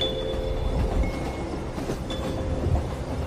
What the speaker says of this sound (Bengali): একটা এক্সপ্রেস ট্রেন ছুটে গেল কোনো দূর শহরের দিকে